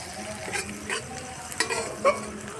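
Onions softening in a frying pan for capsicum chicken kosha give a soft, steady sizzle, broken by a few scraping stirs of a spatula against the pan, close and moderately quiet.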